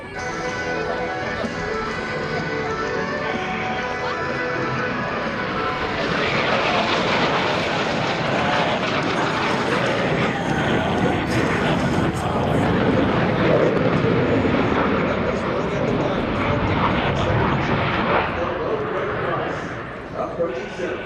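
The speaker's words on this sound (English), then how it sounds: "they will roll their aircraft 360 degrees, pausing after each 90 degrees rotation" US Navy Blue Angels jets perform a four-point hesitation roll at the NAS Oceana airshow, their engines a loud continuous roar that swells midway and holds for about twenty seconds, while a commentator talks over it.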